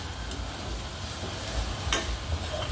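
Minced beef dry-roasting in an oily pan for Thai larb, a steady soft sizzle with occasional scraping stirs and a sharp clink near the end.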